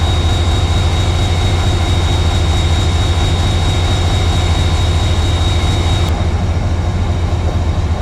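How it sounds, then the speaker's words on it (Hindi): Turbocharger of an EMD diesel locomotive hauling the Sir Syed Express, a steady loud whine and roar over heavy low rumble, continuous throughout with no voices. "अभी टर्बो चार्जर का बड़ा ही यूनिक साउंड EMD का"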